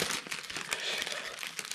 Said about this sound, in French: je vais aller couper le sachet